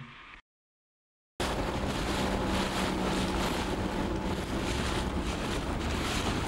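Steady wind blusters across the microphone on a sailboat on a lake, with broadband rushing roar and water movement continuing without pause after a brief gap at the start; no voices.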